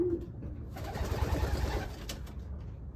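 Several pigeons kept for breeding stock coo in low, soft, repeated throaty pulses, close by and steady against a background of wing rustles and faint loft noise, with no talking.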